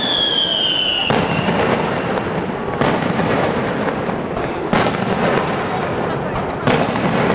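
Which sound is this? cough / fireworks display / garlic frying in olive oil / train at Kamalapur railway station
fireworks display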